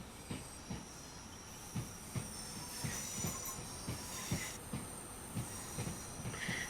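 A Class 153 diesel train runs along the rails with power off at low speed, wheels thumping over rail joints in a steady rhythmic clickety-clack beneath a constant hiss and faint high squeal.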